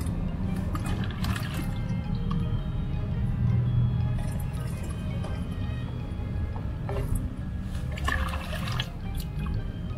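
Water pours from a watering can onto potted plants in a steady, even stream that runs unbroken and fairly soft throughout, with faint splashing as it soaks the potting medium.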